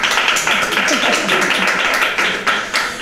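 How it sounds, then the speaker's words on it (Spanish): Applause from a crowd at a Valencian falla event honoring the 2018 Fallera Mayor, dense continuous clapping that swells throughout, close and loud, with some voices mixed in. "un aplauso"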